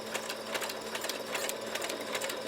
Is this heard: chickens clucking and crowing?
no